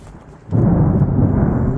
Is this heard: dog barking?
no